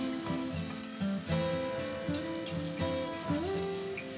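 Cauliflower and potato fry in a pan and are stirred, giving a dense continuous sizzle with stirring bursts, close up, under steady tonal music.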